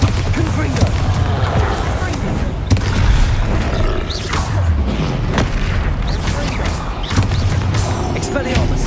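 Spell explosions in Hogwarts Legacy, a rapid string of loud booms and crackling blasts with sharp impacts throughout, close and dense, under occasional talk.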